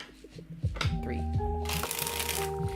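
Tarot cards being shuffled by hand, giving a run of soft riffling and papery slaps that repeat at a steady pace over a quiet, tonal background.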